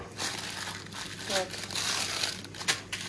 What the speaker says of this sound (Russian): Я беру вот такую гречку уже в пакетиках, чтобы удобно было сварить и не мучиться.